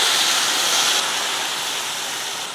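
Water is poured into a cooking pan holding chayote with lentils, turmeric powder and salt for a tamarind-curry lunch dish, making a steady, loud broadband rushing that eases slightly after about one second and continues without talk.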